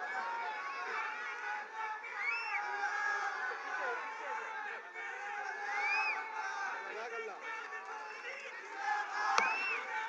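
A large political rally crowd chants slogans in unison, a dense roar of many voices rising and falling in rhythmic bursts with shouts on top, heard from a distance at moderate volume.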